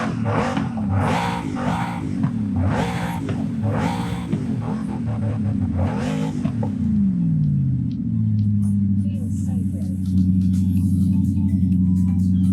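Car engine in Forza Horizon 5 heard from the cockpit, several close revving bursts in quick succession, then a falling whine that settles into a steady, loud idle hum.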